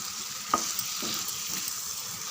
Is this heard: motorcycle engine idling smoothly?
no